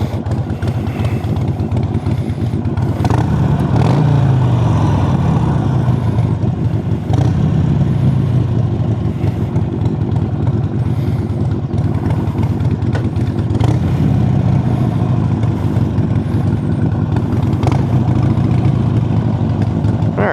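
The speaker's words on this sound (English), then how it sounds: "Sportster sounds." A Harley-Davidson Sportster motorcycle engine runs loud and close for about twenty seconds, a steady rumbling idle with a few mild swells in revs and no talking over it.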